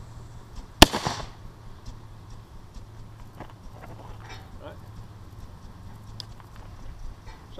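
Harpers Ferry smoothbore musket loaded with a round ball, fired once at 21 meters, a single sharp blast near the start that decays quickly into quiet outdoor background with faint scattered clicks.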